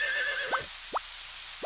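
A horse in Harvest Moon 64 gives a short synthesized whinny followed by two quick rising neigh chirps, each brief and clear, evenly spaced and close with no talk.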